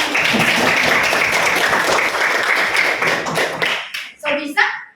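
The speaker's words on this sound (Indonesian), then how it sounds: "Berikan aplaus dulu semuanya." A classroom of students applauds loudly and steadily for a few seconds, then the clapping stops and a few voices speak.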